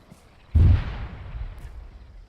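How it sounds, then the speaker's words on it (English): A single heavy mortar blast booms out in a military video game set in Chernarus, a sharp thump followed by a rolling rumble that fades over about two seconds, heard alone without talk. "Not while mortars are going on."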